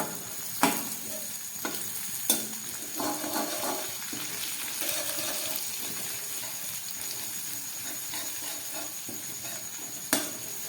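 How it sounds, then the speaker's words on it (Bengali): Onions sizzle steadily in hot oil with curry leaves, dry red chilli, mustard seeds, garlic and ginger, a continuous close frying hiss broken by a few sharp spatula clacks and stirring scrapes. "কারি পাতা শুকনো লঙ্কা সর্ষে রসুন আর আদা দিয়ে পেঁয়াজগুলোকে আমি খুব ভালো করে ভেজে নিচ্ছি"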